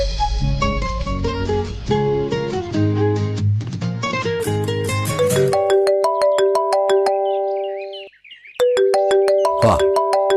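Mobile phone ringtone for an incoming call in a domestic scene, a loud, bright electronic melody of chiming tones that shifts into a repeating pattern of sharp notes, with a brief gap near the end before it resumes.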